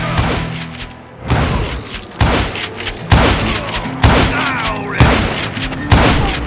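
Repeated gunfire in the Western shooter Call of Juarez: Gunslinger, loud booming shots landing roughly every second in a steady volley, each with a sharp attack and ringing tail.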